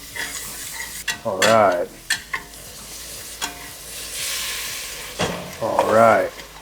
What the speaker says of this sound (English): So we're gonna incorporate it to this roux. We're gonna stir it in.